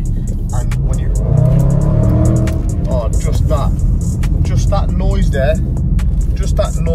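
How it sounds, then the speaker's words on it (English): A supercharged Range Rover SVR with 510 horsepower and its sport exhaust switched on revs its engine, a deep loud roar rising and falling with crackles, heard from nearby over road rumble while someone talks over it. "the exhaust feature there that I've switched on, and it makes the car sound lovely"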